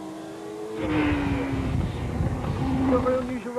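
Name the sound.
superbike accelerating on a race track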